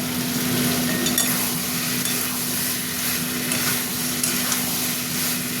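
Pointed gourd and green chilies sauté in hot oil and spice mix, a steady close sizzle with faint stirring scrapes and a low hum underneath.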